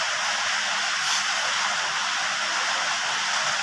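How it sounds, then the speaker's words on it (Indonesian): Steady heavy rain hiss fills the background throughout, a dense broadband wash with no pauses and no voices. "Jadi mohon maaf ini suara agak berisik ya karena hujan."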